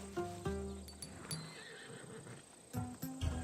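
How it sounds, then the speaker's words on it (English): A horse neighs and whinnies in Assassin's Creed Odyssey, several close whinnies punctuated by hoof clip-clops and snorts against quiet game ambience. "I wouldn't want you to take an unworthy horse."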